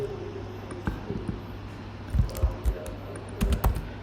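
Code typed on a computer keyboard, close clusters of clacking keystrokes in uneven bursts, with soft talk in the background.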